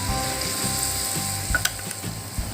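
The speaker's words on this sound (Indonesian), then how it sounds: "Ini kita goreng kurang lebih 3 menitan aja, jangan terlalu lama-lama." Battered tempe mendoan fries in hot oil with a steady, crackling sizzle and scattered sharp pops and clicks, close up and with no one talking.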